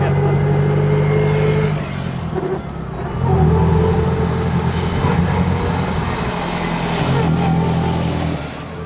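Clive Cussler's vintage Bentley driving, its engine droning steadily close by with a shift in pitch partway through, loud and mostly alone.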